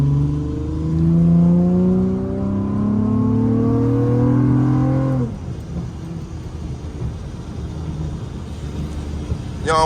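A car engine revs and accelerates on a rainy drive, its pitch climbing steadily for several seconds before dropping off abruptly into road and tire noise.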